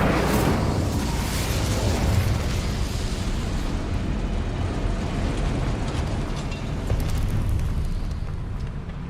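In the Hogwarts Legacy video game, an Incendio fire spell gives a roaring, whooshing burst of flame that rises loudly at once. It then sustains as a dense rumbling blaze for several seconds.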